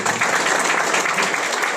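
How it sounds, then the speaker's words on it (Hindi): Audience applause at a team achievement and success-journey event, steady dense clapping filling the whole short stretch at full loudness with no pauses. "इनके लिए जोरदार ताली"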